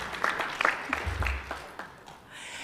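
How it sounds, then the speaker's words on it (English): Audience applause at a school board meeting honoring a student: a brief burst of scattered clapping from a seated crowd, moderately loud, fading out after about two seconds. "You can clap. I like clapping."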